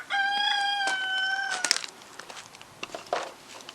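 A garden bird call rings out with a long sustained tonal cry lasting over a second, followed by scattered shorter clucks and rustles, close by and fairly loud.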